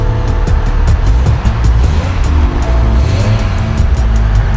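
A 2009 BMW M5 E60 500-hp V10 engine runs loud and close with a throaty, continuous rumble, its pitch rising and falling slightly, along with wind or road noise.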